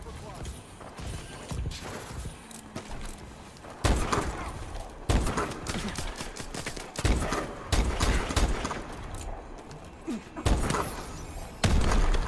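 Gunfire in a sniper video game fight, with sharp shots bursting out at intervals of a few seconds over a busy, continuous game soundtrack, while a voice talks throughout.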